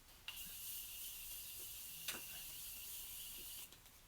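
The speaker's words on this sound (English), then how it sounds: "I'm gonna use Morphe Continuous Setting Mist, and this is the holiday edition" Morphe Continuous Setting Mist, holiday edition, sprayed in three quick hissing bursts of fine makeup mist, close and quiet.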